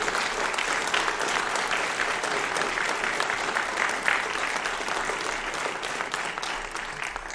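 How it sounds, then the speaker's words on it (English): Audience at a county Republican sheriff's candidate forum applauds the candidates, a steady, dense wash of clapping that holds at an even volume for over seven seconds without speech. "Ladies and gentlemen, applause for all of our candidates, please."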